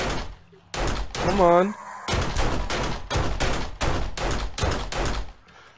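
Pistol shots in 7 Days to Die, a series of sharp, evenly spaced loud bangs following a short voice and a brief tonal game cue, with someone briefly speaking early on.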